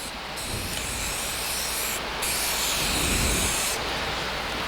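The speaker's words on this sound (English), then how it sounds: "I don't want any of that spray on the top of the piece of wood yet" Steady, loud hiss of liquid being sprayed onto a 3/4 inch plywood board while veneering drawer fronts, continuous broadband spray with brief pauses and slight swells, no talking.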